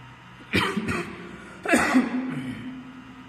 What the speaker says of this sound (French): Désolé pour ma toux, je suis un peu étouffé.